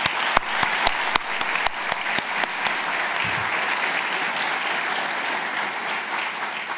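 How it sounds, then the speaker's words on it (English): Large audience applauding for the jurors at the 2022 GSA Design Awards ceremony, a sustained wash of clapping with a few sharp nearby claps standing out early on. "can we get one last round of applause for the jurors?"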